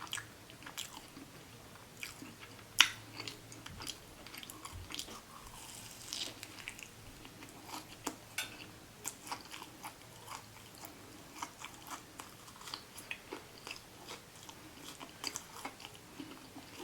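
Close, quiet bites and chewing of a KFC donut chicken sandwich, with soft crunches and moist squishes repeating irregularly and no talking.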